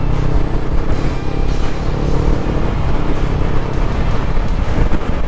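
Strong wind near a field of windmills, a loud continuous roar buffeting a microphone, rough and gusty throughout with no talk over it.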